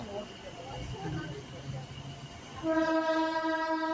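A local train pulls away from Villupuram station in the rain, with a rumbling carriage at first and then a loud sustained horn blast joining in near the end.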